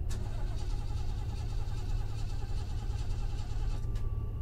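A car in the horror video game Fear to Fathom revs with a steady, loud, droning engine and constant low rumble, sustained throughout, with a sharp click near the end.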